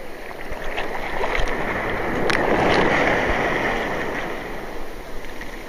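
Sea waves break in shallow water off the eastern beach at Oludeniz, Turkey, a loud, close rushing surge that swells in the middle and slowly eases off, with scattered splashes.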